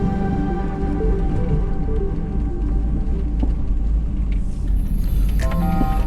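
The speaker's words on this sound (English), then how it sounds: "snow like this is just a blast to drive through" A truck ploughs through deep snow, its engine rumbling steadily up close beneath a constant hissing crunch of snow against the body and tyres.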